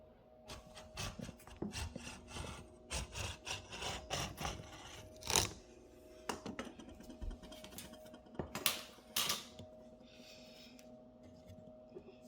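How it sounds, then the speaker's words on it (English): Scissors cutting fabric for a dog bandana make a steady series of close, raspy snipping and rubbing strokes, with a few sharper scrapes among them and no talk. "So you're going to divide your fabric and you're just going to cut it."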